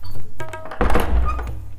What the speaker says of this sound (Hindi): दरवाजा लगा लो।